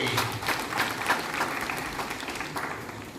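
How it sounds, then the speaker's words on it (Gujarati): An audience claps steadily at a devotional gathering, the dense applause staying loud and even from start to finish. "તાળીથી વધારી"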